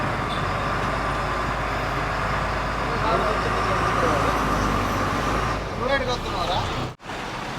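Congested city road traffic in Aizawl hums steadily with cars and trucks idling and creeping in a jam, a low engine drone under a voice talking throughout.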